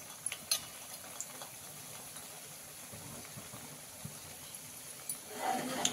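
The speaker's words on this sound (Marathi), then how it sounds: "4 बालुशाही आपण तुपामध्ये तळून घेऊया" Balushahi frying in ghee over low heat, a soft steady bubbling sizzle that stays faint and even, swelling a little brighter near the end.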